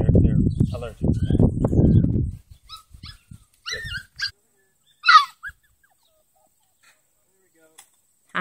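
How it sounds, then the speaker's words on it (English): Hungry golden retriever puppies whimper and yelp close by, a loud cluster of cries at first, then scattered thin high whines and squeaks that fade toward silence. "Hungry puppies."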